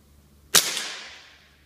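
A single sharp Crosman 2240 air pistol shot powered by a 12g CO2 cartridge, a crisp close crack followed by a short fading ring, with quiet room tone before it.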